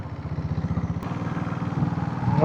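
A diesel Royal Enfield Bullet motorcycle thumps along on a ride, its slow, even pulsing beat loud and close, steadily building in intensity toward the end.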